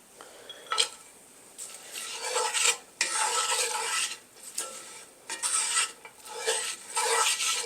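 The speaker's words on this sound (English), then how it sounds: "Roughing up these chickpeas with the walnuts is gonna rough up the surface area" Chickpeas and walnuts roughed up together in a pan or bowl, giving bursts of scraping, rasping stirring against the metal with short pauses between strokes, close and fairly loud with no talking.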